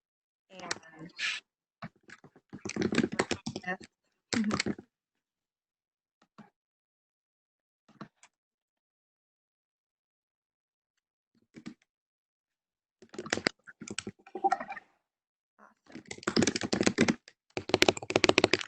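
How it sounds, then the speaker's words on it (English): Scattered bursts of clattery keyboard typing from an unmuted participant on an online meeting call come and go between quiet gaps, close and fairly soft, with occasional taps. "Reminder to mute. We hear someone typing."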